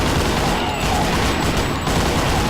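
Dense, continuous gunfire from a demon-blasting first-person shooter video game, a loud unbroken barrage of rapid shots with no gaps.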